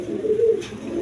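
A pigeon gives a single soft, low coo up close, with no other sounds, among Andalusian-coloured breeding pigeons kept in pairs.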